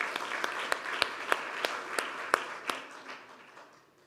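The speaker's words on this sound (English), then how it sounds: "A warm round of applause" A warm round of applause from the audience at a European ocean policy conference, with sharp individual claps standing out over a dense, steady clatter that fades away toward the end.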